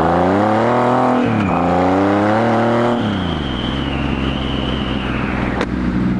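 A powerful motorcycle with no traction control, making around 150 horsepower, accelerates hard close up, its loud engine climbing through rising revs with shifts between gears and no talking.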